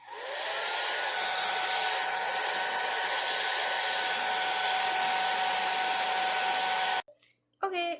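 A hair dryer blows steadily and loudly up close for about seven seconds while drying a watercolor painting, then cuts off abruptly, followed by a moment of quiet and brief speech.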